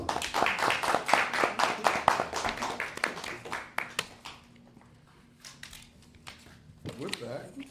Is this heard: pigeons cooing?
no